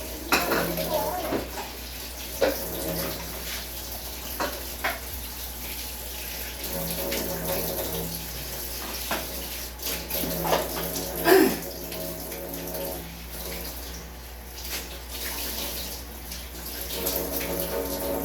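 Water is added to a cooking pot holding raw pork cubes, with splashing and clinking of pots and utensils across a busy kitchen, steady and moderately loud throughout.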